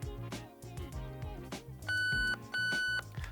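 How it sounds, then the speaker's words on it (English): An airsoft MOSFET gives two short, clear confirmation beeps after programming, each about half a second long, sounding over background music. "Those 2 beeps will let you know that you've programmed that option into your MOSFET"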